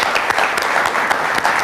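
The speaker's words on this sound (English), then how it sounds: "Let's give her a round of applause." Applause from a school audience at a quiz competition, a steady burst of many hands clapping at close range, continuous with no voices over it.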